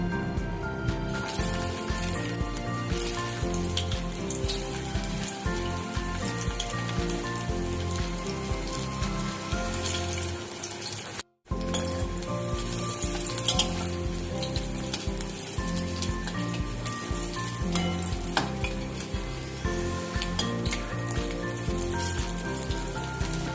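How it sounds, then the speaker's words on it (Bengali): Drumstick flower pakoras sizzle steadily in hot mustard oil in a kadai, a continuous frying hiss running under prominent background music throughout, with one brief break midway. "পকোড়াগুলো ভাজার জন্য কড়াতে আমি সর্ষের তেল গরম করতে দিয়ে দিয়েছি"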